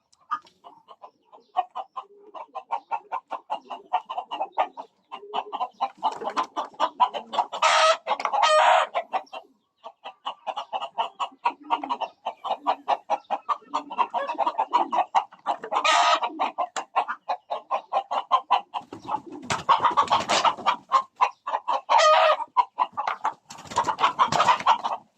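Native chickens on a provincial farm cluck steadily throughout, with roosters crowing loudly in several bursts over the dense, busy flock noise.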